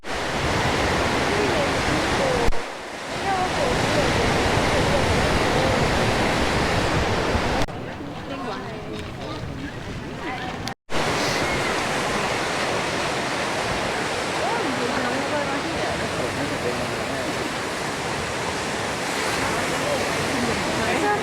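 Ocean waves wash continuously onto a beach at Tulum, Mexico, a loud, steady, close surf roar with one brief dropout and a quieter, thinner stretch midway.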